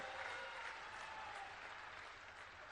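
An audience at a political booth committee conference in Khajuraho, held for the Home Minister, gives a sustained round of applause that is continuous and fairly faint, as if heard from a distance.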